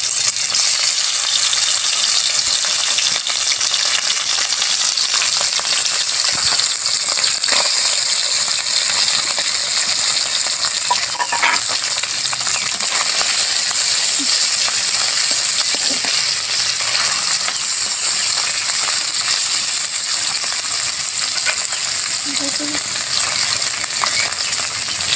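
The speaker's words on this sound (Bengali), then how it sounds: "দেখুন আমার কেমন ভাজা হয়েছে, মাছগুলো ভেজে নেব।" Mixed fish fry in hot oil in a pan, giving a loud, steady sizzle that runs unbroken for over twenty seconds, with occasional clicks of a utensil against the pan.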